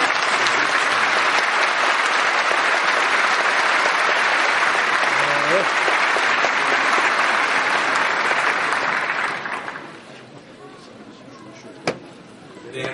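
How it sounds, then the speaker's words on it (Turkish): An audience at a democracy panel gives the panelists a dense, sustained round of applause that holds steady for about nine seconds, then fades quickly to a quiet room with a single faint knock. "ben bütün panelistlerimiz için de toplam bir alkış rica ediyorum"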